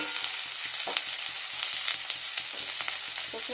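Potatoes and eggplant frying in a pan give a steady, moderately quiet sizzle with small crackles and a few light pops, close by and without any talk.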